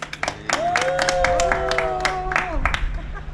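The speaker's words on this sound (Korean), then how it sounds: "여러분 박수 한번 보내주세요" A short burst of applause from a small group on a Harley-Davidson touring presentation about Baengnyeongdo, a few scattered claps mixed with voices and a low hum.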